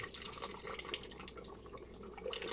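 Broth and water poured into an electric pressure cooker while making beef picadillo, a soft close trickle and splash that runs steadily for a few seconds with no voices.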